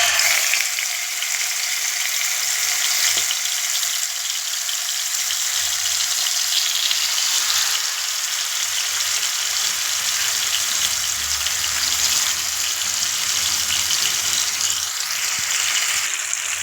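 Fish frying in hot oil in a pan, a steady loud sizzle and crackle that runs unbroken and close throughout, with no talk.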